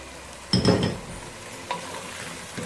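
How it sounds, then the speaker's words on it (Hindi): Beef sizzles in a pan of onion, garlic and ginger paste, with a louder burst of stirring and scraping near the start, then a softer steady frying hiss. "प्याज, लहसुन, अदरक के पेस्ट में हम अच्छी तरह से इसको फ्राई करेंगे।"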